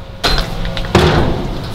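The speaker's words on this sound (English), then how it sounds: "let's say the door shuts there" A Ford Bronco door is shut twice in a garage, giving two solid near thuds with a short metallic rattle, each followed by lingering room noise.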